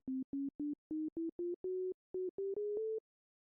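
A sequence of pure sine wave synth notes played on an isomorphic keyboard instrument, about a dozen short clean tones stepping gradually upward in pitch with brief gaps, the last few held slightly longer.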